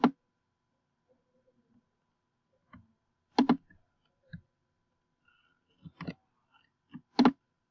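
A computer mouse clicks on links in a quiet room, sparse sharp clicks, some single and some in quick pairs, spread out with silence between them.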